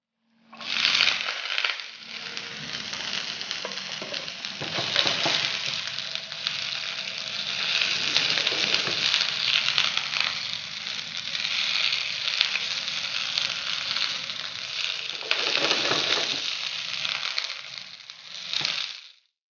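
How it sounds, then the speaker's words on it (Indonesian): Steady loud sizzling in a wok as aromatics are sautéed and green beans go in for a shrimp, curry and petai dish, with brief surges of hiss and clatter as ingredients land. "Kita tumis sampai harum. Habis itu kita masukin buncisnya."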